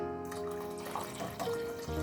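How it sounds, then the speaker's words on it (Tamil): Cold tap water is poured into a puttu flour mixture in a home kitchen, a soft, steady trickle and splash heard close and quiet for about two seconds. "இன்னும் கொஞ்சம் தண்ணி விட போகிறேன்."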